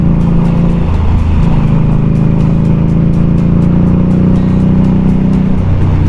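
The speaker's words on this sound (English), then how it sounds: "we're cruising here in third gear on the 2017 Indian Scout" A 2017 Indian Scout motorcycle cruises steadily in third gear on a road through a blind curve, giving a loud, even engine drone under constant wind rush with no break or change in pace.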